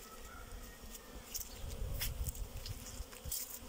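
Honeybees take winter cleansing flights from their hives on a sunny December day, a soft buzzing hum that swells and fades as individual bees pass near, with faint outdoor background.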